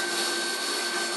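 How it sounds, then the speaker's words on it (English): A CNC machine cuts a chamfer around a part edge, giving a steady, even high-pitched whir with a faint tonal whine, moderately loud and unbroken. "now extra little thing I do here is I just put a nice neat little chamfer around the edge"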